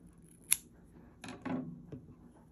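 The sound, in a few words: scissors cutting crochet yarn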